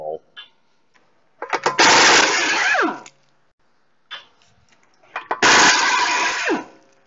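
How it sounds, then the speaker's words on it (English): A pneumatic impact gun in an auto repair shop busts a nut off a wheel hub in two loud, close bursts of rattling, each about a second and a half long, with short pauses and quiet shop sounds between them. "Let's go to the backside and bust a nut."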